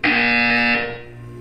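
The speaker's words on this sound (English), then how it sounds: "You will hear a buzzer." Loud electronic buzzer from Portal 2 inside an Aperture Science test facility, a single sustained harsh buzz lasting under a second before cutting off and leaving a faint hum.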